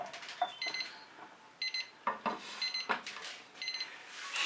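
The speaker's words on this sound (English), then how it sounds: "Shut off my timer." Kitchen timer alarm beeping in a home art workspace: quiet repeated bursts of high electronic beeps in irregular groups, heard faintly alongside small handling noises.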